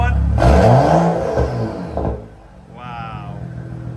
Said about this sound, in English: Right, now that the car idled down a little bit, we're gonna go ahead and give it a few revs.